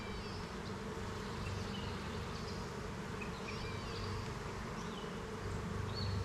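Honeybees in a nuc hive make a steady, dense buzzing drone that stays close and loud throughout, with brief higher-pitched whines of individual bees passing near.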